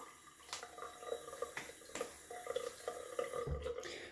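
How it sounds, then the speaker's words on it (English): Cold water is splashed onto the face during wet shaving: quiet splashing and dripping water with soft scattered splashes, close by and fairly faint, with no talking. "Gonna add cold water to the face."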